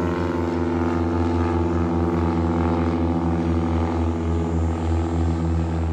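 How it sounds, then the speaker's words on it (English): A PT-17 Stearman biplane with a radial engine drones steadily outdoors, a loud continuous throbbing hum with pulsing low-end beats that holds level the whole time, no voices. "until the airplane goes by here"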